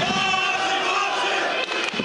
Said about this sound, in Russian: есть болельщики тут и немало, и громкие какие у Антона